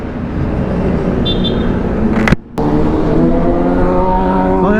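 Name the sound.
road traffic noise during motorcycle ride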